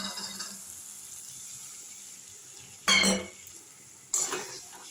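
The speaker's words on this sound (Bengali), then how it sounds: "এইভাবে একটু নেড়ে আমি কষিয়ে নেব।" A spoon scrapes through cauliflower roast cooking in a pan with poppy seed and cashew paste, yogurt and a little water: two short, sharp stirring scrapes over a faint, quiet kitchen background.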